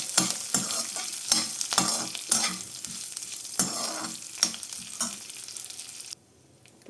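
Mustard seeds and curry leaves sizzle in hot oil while being stirred, a crackling fry broken by repeated scraping stirs, then stopping abruptly near the end.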